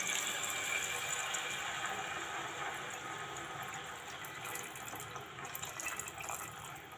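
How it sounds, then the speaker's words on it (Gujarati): Water pours steadily into a metal pressure cooker, a soft continuous rushing splash heard fairly quietly with no one speaking. "આ કરચલીઓ પાણીનો નાખીને 2 થી 3 સીટી વગાડી લેશું"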